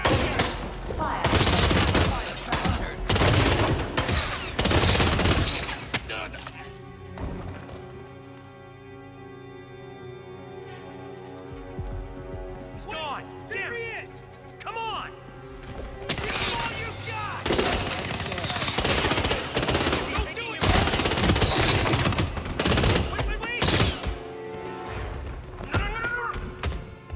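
Gunfire bursts in the Hitman III stealth game, several loud volleys of shots early on and again later, set against a musical score and game effects.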